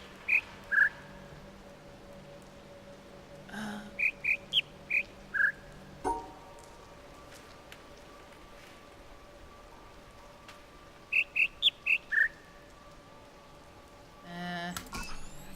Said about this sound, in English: it still has something to do with that bird shrieking in my headphones